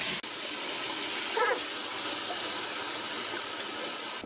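Steady broadband hiss of water streaming from a tap, running continuously and fairly loud before cutting off abruptly at the end.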